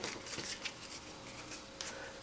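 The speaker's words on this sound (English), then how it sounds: "So I got to shuffle the deck." A deck of Twilight Struggle board game cards is shuffled quietly at close range, a few soft riffling and flicking bursts over about two seconds, with no voices.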